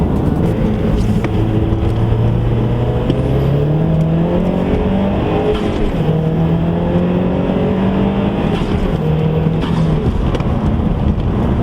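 Mazdaspeed 3 engine pulling loud and steady while driving, its tone rising through gears in repeated sweeps with a constant roar of road and wind underneath.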